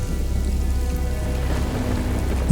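Storm sound effect of steady heavy rain with a low, rumbling wind or thunder beneath it, loud and continuous, ending in a brief bump.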